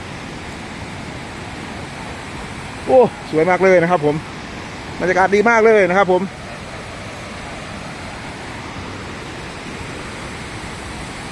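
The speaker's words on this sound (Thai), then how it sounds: "ลงไปข้างข้างล่างก็จะเป็นแบบน้ำนะครับ น้ำตก" A waterfall in Attapeu, Laos, gives a steady, even rush of falling water throughout, with someone speaking briefly over it in two short bursts.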